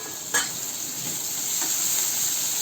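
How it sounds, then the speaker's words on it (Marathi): Chopped onion sautéing with garlic in oil over medium heat, a steady close hiss and sizzle with one brief stir near the start. "मीडियम गॅसवर मी कांदा परतून घेते"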